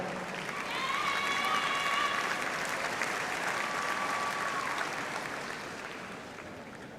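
Audience at a summer doctoral graduation ceremony applauding the new graduates, a broad sustained round of clapping that swells, holds and gradually fades, with a faint tone sounding in the hall.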